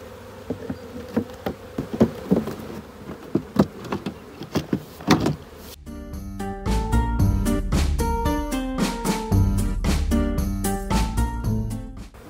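Honeybees buzz around hives during a spring hive inspection, droning close by alongside scattered knocks and taps from handling the hive equipment.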